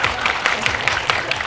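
Congratulatory applause from a cinema audience at a film premiere talk, a brief dense patter of clapping with a few louder claps popping out, steady and fairly close throughout.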